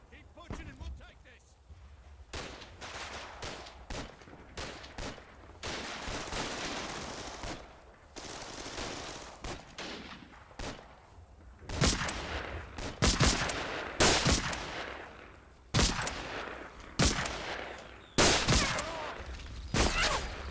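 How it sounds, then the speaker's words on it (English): Heavy machine gun fire rattles in the Combat Mission Battle for Normandy war game, arriving as repeated bursts and sharp reports that get louder and more frequent in the second half, with a voice talking over parts of it. "So we see the heavy machine gun."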